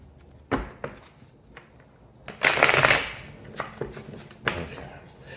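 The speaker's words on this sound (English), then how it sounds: "Let me get one more shuffle." Tarot cards are shuffled by hand in several quick riffling bursts separated by pauses, close and crisp, with one longer louder shuffle in the middle and no talk.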